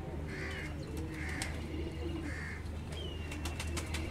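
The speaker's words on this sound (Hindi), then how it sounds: "ये देखें जी, बहुत शानदार कबूतर है" Soft, repeated coos of a Sialkoti pigeon over a steady low hum, with a few brief chirps and clicks scattered through the background.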